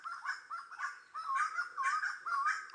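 Several birds in a Himalayan hill forest call back and forth in repeated squawking, chattering bursts, fairly close and steady across the whole stretch, with no talking.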